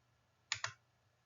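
Two quick plastic clicks of keys pressed on a financial calculator, close and crisp, in near silence.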